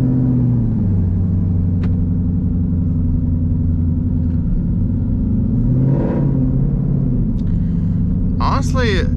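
A Ford Mustang with a newly installed driveshaft accelerates, producing a loud, steady engine drone and road rumble heard from inside the car, rising slightly before fading near the end.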